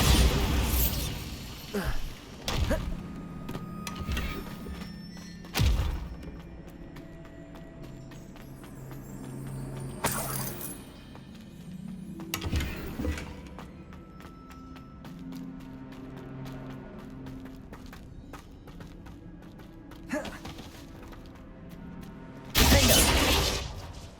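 Bombarda blasting spells hit in Hogwarts Legacy, giving several sharp shattering bursts spaced across a long stretch, each a loud crack with a debris tail over a low game-music bed, ending in a heavy blast.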